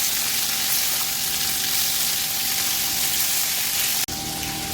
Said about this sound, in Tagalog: At ayan, mainit na nga itong kawali natin. Pwede na natin iprito yung isda natin.